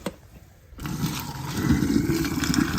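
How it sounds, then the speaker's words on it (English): Water from boiled orange peels being drained off in a kitchen, starting after a brief quiet moment as a steady, splashing rush that grows slightly louder and continues to the end. "So we're gonna drain this water off."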